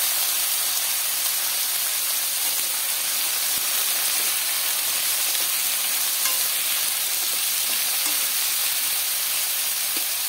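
Potato pieces, cut into eighths, frying in hot oil with a steady, dense sizzle and hiss that stays constant and close throughout, no voices.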